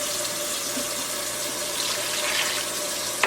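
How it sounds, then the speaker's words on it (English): Water pours steadily from a tap into a cooking pot for homemade soup, a constant close splashing hiss with no talk. "Pouring water in now"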